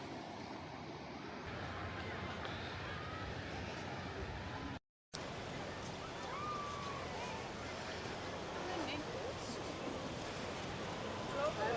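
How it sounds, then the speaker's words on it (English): Atlantic surf washes gently into a cove beach at Playa del Ingles, Gran Canaria, a soft continuous wash of waves with light wind noise and a brief dropout midway. "You can hear the sea lapping in."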